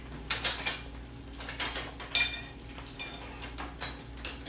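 A croque monsieur sandwich is set onto a plate in a home kitchen, with several light clinks and clatters of dishes and utensils in short irregular bursts, close and fairly quiet, no talking.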